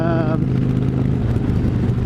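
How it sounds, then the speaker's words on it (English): A 2005 Honda Shadow Aero 750 motorcycle idling with a hard, lumpy rumble, steady and close, with a brief voice-like tone at the very start. "It's idling, it's got the vibrations, you know, it clears right up when you're going, but it's got that old school vibration."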